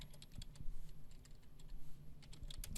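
Rapid keystrokes on a computer keyboard while a document title is entered, a steady run of close, light clicks with no talk.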